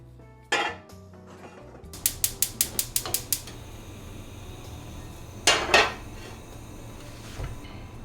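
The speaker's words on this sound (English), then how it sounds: "I'm gonna use this pan" A metal frying pan clatters on a home stove while cooking Japanese chicken meatballs: a sharp clank, then a quick run of about seven light ringing taps, another heavier clatter and a soft final knock, close and alone.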